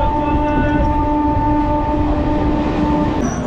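Loud, continuous running of a Majerhat–Hasnabad local passing Durganagar without stopping, a steady rumbling drone with humming tones and a faint high tone near the end.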